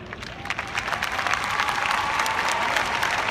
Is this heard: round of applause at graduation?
yes